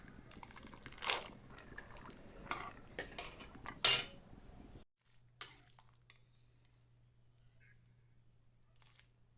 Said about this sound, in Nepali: चाउमिन चलाउने छैन, अनि त्यही भएर यसले चलाउँदैछ चिम्टाले